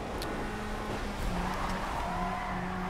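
A Jaguar or Ferrari car drives in the racing game Need for Speed Rivals, its engine droning steadily under faint tire squeal and skidding, moderately quiet and with no talk.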